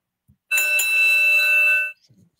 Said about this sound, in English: Hit that opening bell.